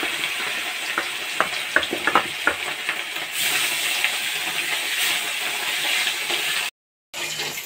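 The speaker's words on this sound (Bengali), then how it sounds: "মাছগুলোকে আমি নুন হলুদ মেখে ভালো করে ভেজে নেব" Katla fish pieces coated in salt and turmeric fry in a hot kadai with a loud, steady sizzle. Sharp utensil clatter sounds early on, and the sound cuts out briefly near the end.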